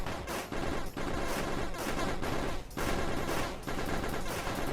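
Two SMGs fire in Hero Survival on PS5 in sustained, rapid bursts with brief gaps between volleys, a dense, steady clatter of gunfire at moderate volume.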